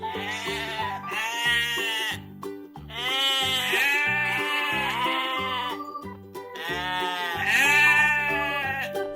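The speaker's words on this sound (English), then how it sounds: "Look at the sheep. Sheep give us soft wool for warm clothes." Sheep bleat loud and close in a repeating series of long, wavering baas, several calls in a row with brief pauses between, no speech over them.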